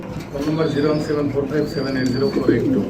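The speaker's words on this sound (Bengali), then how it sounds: "খুবই চমৎকার জয়েন্ট হুমা কবুতর" Huma pigeons cooing in a pigeon sale setting, soft repeated throaty coos close by, overlapped by someone talking.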